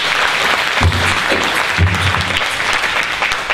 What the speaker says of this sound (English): So can you give the teachers a round of applause?